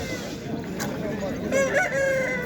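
A rooster crows loudly nearby at a poultry market in İzmir, its drawn-out call rising and falling over a steady background hum.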